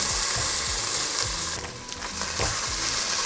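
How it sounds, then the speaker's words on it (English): Onions and garlic frying in oil in a pan, a loud, steady sizzle with occasional stirring scrapes throughout, and no talking. "My onions are almost turning golden brown, but I'll put in the cabbage so it can cook together."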